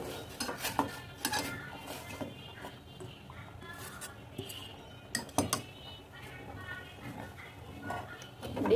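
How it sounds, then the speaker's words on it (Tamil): Finger millet (ragi) porridge stirred in a pot, giving scraping and clinking of a spoon against metal in irregular strokes, close and moderately loud with some kitchen clatter. "நம்ம இப்போ வந்து இதை ஊற்றி கிண்டிடலாம்."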